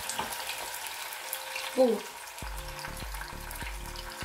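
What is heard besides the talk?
chopped tomatoes frying in oil in pan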